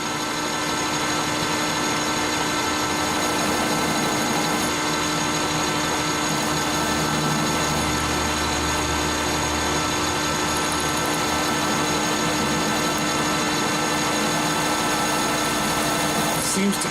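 A center drill bit cutting 303 stainless steel at 680 RPM on a lathe or drill, giving a continuous steady machine whir with a constant tone that holds throughout.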